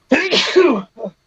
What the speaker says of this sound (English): Sorry, I just sneezed.